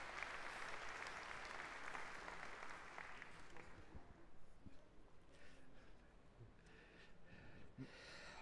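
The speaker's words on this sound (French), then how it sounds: "je voudrais qu'on applaudisse fort pour toute son action" An audience applauds a mayor at a gathering on disability policy, the clapping broad at first, then thinning and fading into scattered claps and faint room noise.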